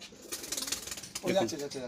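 Kalasabuj and Kaldoma pigeons, a pair sitting on eggs in a loft, give soft, murmuring coos that swell near the end, with a voice briefly mingling in.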